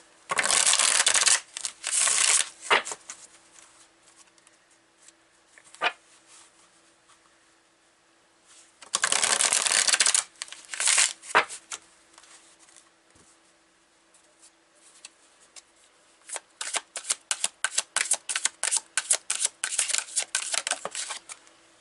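A deck of tarot cards being shuffled close up, with loud riffling bursts separated by quieter handling, then a fast run of rapid card flicks near the end, no speech.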